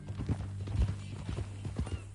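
Horse hooves clip-clop at a steady walking rhythm in the video game Red Dead Redemption 2, close and moderately loud against a low ambient hum.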